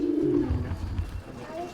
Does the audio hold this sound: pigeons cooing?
yes